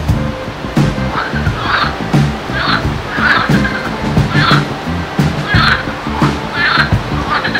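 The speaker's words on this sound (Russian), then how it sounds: "Жабы заквакали." Toads croaking outdoors near water: a steady series of repeated throaty calls about every half second, heard over a constant wash of flowing water.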